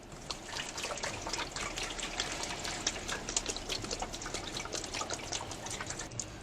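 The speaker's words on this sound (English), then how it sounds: "First, I'm going to put the gallon of water in." A gallon of water poured into the fuel tank of a 2000 Katana 750 motorcycle during rust cleaning outdoors, a steady close splashing and trickling that runs unbroken throughout with no talk.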